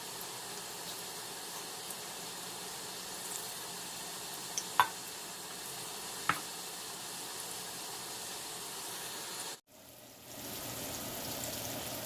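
Masala bondas deep-frying in moderately hot oil give off a steady, even sizzle with a couple of faint pops. The sizzle briefly cuts out near the end, then resumes.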